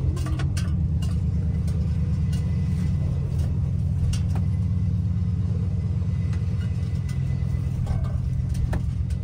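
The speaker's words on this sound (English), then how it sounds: "I'm releasing the clutch as we're driving just to see if it'll come out" A 1959 Chevy Biscayne drives along with the clutch being released, its rear wheels chattering, heard as a steady low engine and road rumble from inside the car with faint ticking.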